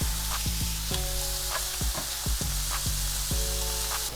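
Steady frying sizzle of mushrooms in butter in a pan, with repeated clinks and scrapes of a utensil stirring, close and fairly loud, no talking.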